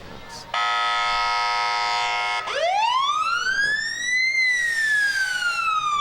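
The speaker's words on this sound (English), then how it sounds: "More sirens." A siren at a street parade starts with a steady electronic horn tone, then switches to a rising and falling wail, loud and close.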